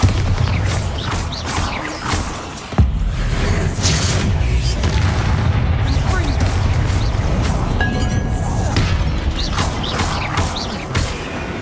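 A Bombarda spell blast in the video game Hogwarts Legacy, a sudden thump near the three-second mark over dense, continuous game ambience with rumbling low end and scattered clinks in a tomb.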